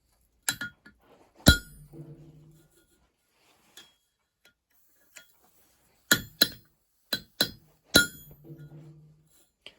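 Hammer blows on hot steel resting flat on an anvil, striking a part for a power hacksaw auto-stop: sharp metallic clinks with ringing tails, a few early hits, a pause, then a quick cluster of strikes near the end.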